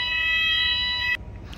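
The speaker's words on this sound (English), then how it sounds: "Here we go again, false alarm." A false alarm blares as a loud, steady electronic tone for about a second before cutting off abruptly, leaving a quiet room with faint low rumble.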